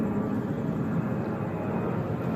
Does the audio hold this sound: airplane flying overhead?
yes